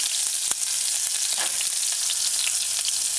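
Ginger and chopped onions stir-fried in hot cooking oil with a cooking spoon make a brief, bright, steady sizzle up close, with a couple of sharp scraping stirs.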